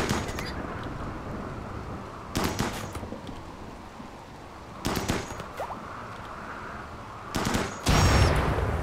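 Bursts of gunfire from a RimWorld colony battle crackle in short clusters, several volleys spaced a few seconds apart over a steady rushing background, with the last burst louder and heavier.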